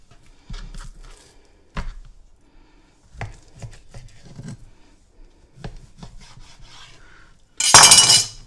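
A knife slices top round steak on a cutting board in a series of close, soft strokes and taps with quiet gaps, ending in a sudden loud rustling burst.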